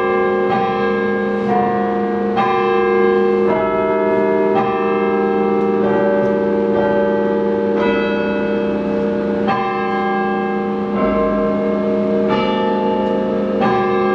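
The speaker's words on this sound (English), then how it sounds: "if you ever hear songs being played from the bell tower, like Carmen, Ohio, then you know someone is up there playing the bells" Orton Hall bell tower bells at Ohio State play Carmen Ohio, a steady melody of sustained ringing tones struck one after another, loud and close with long overlapping resonance and no talking.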